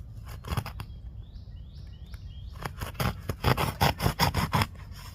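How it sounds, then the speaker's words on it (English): Scissors snip and scrape through a melon bed cover, giving a quick series of sharp cutting strokes with short pauses between them, close and fairly loud, with a few faint chirps in the background. "I'm gonna cut the hole just a little bit bigger."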